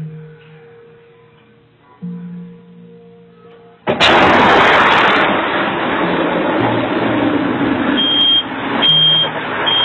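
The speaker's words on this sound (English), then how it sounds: "The home's water boiler had exploded" A home water boiler explodes in a children's playroom, recorded on a baby monitor: quiet tones, then a sudden loud blast followed by a sustained harsh roar of noise.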